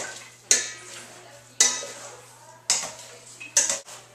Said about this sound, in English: Just take a spoon and spoon some of that awesomeness in there. Just mix that in.